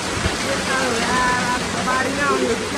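Steady rain pours down in a dense, even hiss that holds at the same loudness throughout, with faint voices murmuring beneath it.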